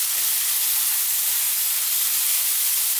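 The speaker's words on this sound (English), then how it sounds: "And you can hear this moisture coming out of there." Mushrooms sizzle steadily in a hot pan as they release moisture, a dense continuous hiss of frying and steam, close and unbroken, with no talking.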